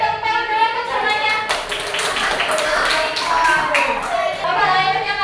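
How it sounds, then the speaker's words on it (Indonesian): A classroom group claps during a micro-teaching lesson, steady scattered applause from several people that lasts a few seconds at close range. "beri tepuk tangan dulu untuk semuanya"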